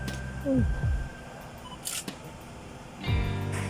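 A single-lens reflex camera fires with a speedlite flash fitted with a modifier, set to f/20 and 1/60 shutter, giving two brief near clicks with a short whine, then another click later, under a quiet room.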